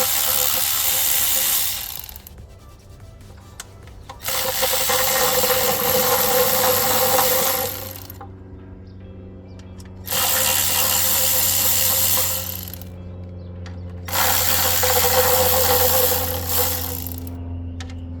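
A Milwaukee power tool loosens the oil cooler bolts on a 2015 Jeep Grand Cherokee 3.6L. It runs in four loud, sustained bursts separated by short pauses, with a low hum underneath.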